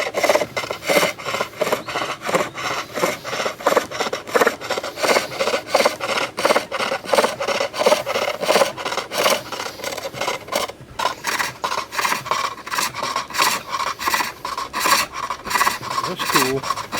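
Lathe tool cutting a wooden bowl, throwing thick chunky shavings: a loud rhythmic rasping scrape repeating rapidly and evenly, close and unbroken apart from a short pause.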